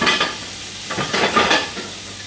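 Onions and garlic fry in a pan for bezan cake, giving a steady sizzle with bursts of stirring and scraping. The sound is close and moderately loud, with no talk.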